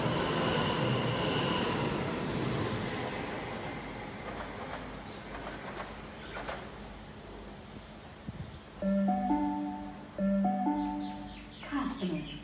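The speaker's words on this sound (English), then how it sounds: "The train on platform 1." A train rumbles and rolls in to platform 1 at Flemington station in Sydney with a low, steady mechanical drone, then a station chime and a public announcement voice sound over it.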